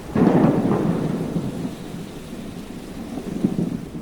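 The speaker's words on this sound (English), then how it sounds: "Rain started to fall, first in little drops, but then heavier and heavier. Lightning struck and thunder rumbled." Deep rolling thunder rumbles over steady heavy rain in a storm, a loud low roar at the start that fades, then swells again near the end.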